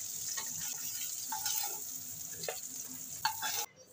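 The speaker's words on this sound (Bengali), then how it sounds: "মাছটা ভাজা হয়ে গেছে, আমি তুলে নিচ্ছি।" Pieces of boal fish fry in hot oil with a steady close sizzle and crackle, joined by a few brief scraping stirs and clinks before the frying cuts off near the end.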